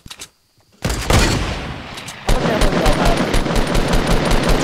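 Rapid automatic gunfire in the video game Fortnite, close and loud, starting with a few sharp shots and then a dense, sustained burst of overlapping rounds that grows heavier partway through.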